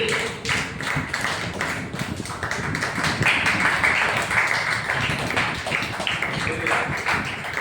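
A church congregation in a worship service claps loudly and steadily for God, dense rapid hand claps running throughout with voices calling out over them.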